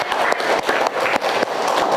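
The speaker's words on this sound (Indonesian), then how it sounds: "Kita beri aplaus dulu untuk kita semua." A classroom of students gives a burst of applause, dense overlapping clapping that is loud and steady throughout, with slight pulsing swells of rhythm and no voices on top.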